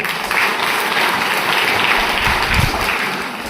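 Loud, steady applause from a crowd at a village zone-level sports meet inauguration in Veerapura, a dense clapping wash that holds evenly for a few seconds without pause.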